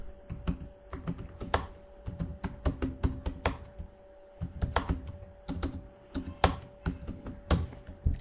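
Fast keyboard typing of a web search query on a computer keyboard, a steady stream of close, crisp key clicks in irregular bursts with brief pauses, alone without talk.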